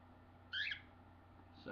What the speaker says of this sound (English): Got my bird over here.